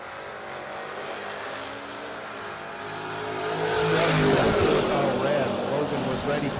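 Drag race cars launching side by side, including the Mosier Engineering Chevy II, a broad engine roar swelling louder midway under a commentator's voice.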